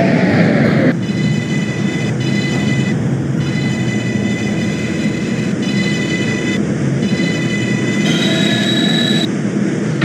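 A New York subway 6 train runs in the OpenBVE simulator, a loud, constant rumble of wheels on track with a steady motor whine and intermittent squeals.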